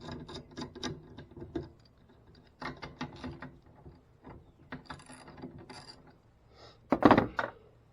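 A hand ratchet fitted with a 15 mm socket works on the strut bolts of a 2017 Ford Fiesta, giving several bursts of rapid close clicking separated by pauses, ending in a louder metallic clatter.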